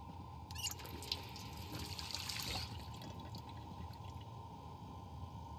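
Tap water running and splashing in the Project Zomboid survival game, a faint steady trickle with a brief louder gush near the middle, under a constant low hum.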